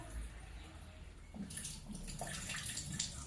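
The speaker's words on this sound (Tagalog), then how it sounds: "maglalagay tayo ng tubig." Water pours and splashes steadily into a container for a couple of seconds, bright and close, after a brief quiet moment.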